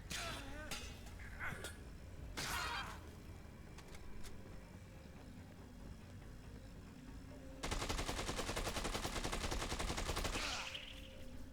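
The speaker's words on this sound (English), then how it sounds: "The sound of the weapon breaking." Weapon breaking apart in Dead Rising 2, heard as a sharp crack followed later by a loud, sustained rattling burst of game noise, with someone talking over the game sounds in the clip.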